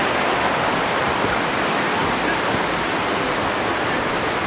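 Water rushing near a spring or waterfall in the Grampians, Australia, a loud, steady, unbroken hiss and roar with no voices.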